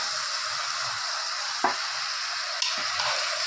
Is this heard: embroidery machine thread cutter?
no